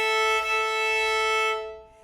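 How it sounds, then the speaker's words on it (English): A violin double-stop is bowed evenly on two strings, giving a steady, sustained two-note tone that holds smoothly for about a second and a half before fading out. "we have to touch both strings at the same time evenly"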